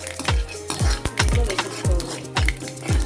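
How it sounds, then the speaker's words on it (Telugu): Mustard seeds and spices tempering in hot oil in a pan for cucumber moong dal, popping in sharp, irregular crackles spaced every half second or so, close and fairly loud with no talk. "చూసారా సౌండ్ ఎలా వస్తుందో, టక్కటక్కమంటే అలా టక్కటక్క వచ్చేసరికి వేయించుకుని"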